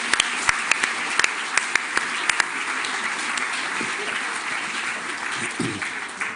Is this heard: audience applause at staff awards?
yes